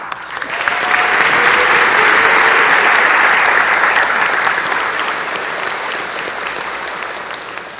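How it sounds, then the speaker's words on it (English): An audience at a university commencement ceremony applauds, a dense wash of clapping that swells quickly, holds strong, then gradually thins toward the end. "Can you join me in offering some applause?"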